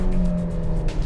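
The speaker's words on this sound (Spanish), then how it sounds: "ya empezamos a oír un poco más el sonido del motor en el habitáculo" A 2025 Kia Seltos engine under full-throttle acceleration, a steady tonal hum holding at moderate loudness throughout, heard from inside the cabin.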